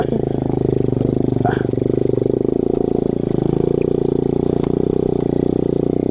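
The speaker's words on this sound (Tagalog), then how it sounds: "Kapuya ning gamayng motor." A small motorcycle engine strains and revs steadily while climbing an overgrown uphill trail, loud and close, with a continuous droning note and faint voices in the background.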